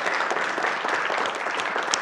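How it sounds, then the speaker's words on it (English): An audience applauds panelists at the end of a discussion event, with dense, steady clapping that holds at an even level from start to finish and has no talk over it. "We're going to clap it up for them as well."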